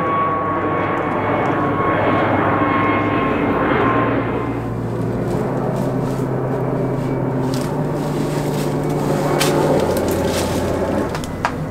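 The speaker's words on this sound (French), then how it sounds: "il y a un putain de bruit de fond, de putain d'avions qui volent hyper près en fait" A low-flying airplane near Roissy airport drones loudly overhead in a deserted village, with a sustained engine roar and shifting tones that hold steady throughout.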